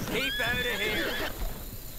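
A horse in the video game Red Dead Redemption 2 gives a loud, close whinny with a rising, wavering call lasting over a second, followed by faint hoof clatter and low background noise.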